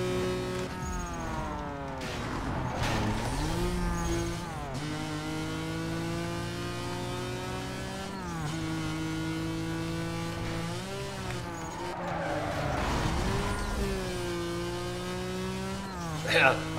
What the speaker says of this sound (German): Ja, aber der Motor, der klingt schon irgendwie geil.